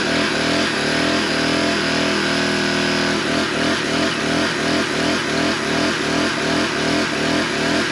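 A Jaws of Life hydraulic rescue tool works on a metal tube about 2 by 3 inches with walls at least 1/8 inch thick. A loud, steady mechanical drone from the tool's engine runs throughout, turning into a rapid pulsing chug partway through.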